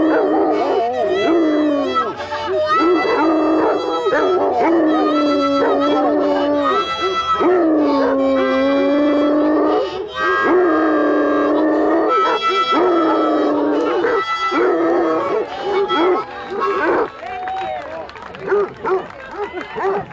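Basset Hounds howl at an outdoor birthday picnic, several drawn-out, wavering howls overlapping loudly and continuously for the whole stretch, with people talking and calling among them.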